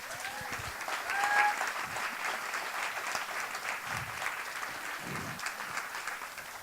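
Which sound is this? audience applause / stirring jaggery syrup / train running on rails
audience applause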